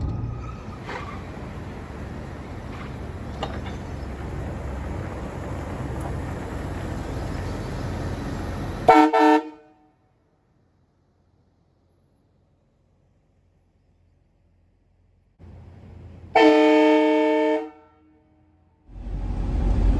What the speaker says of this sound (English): the train horn install on the Jeep Wrangler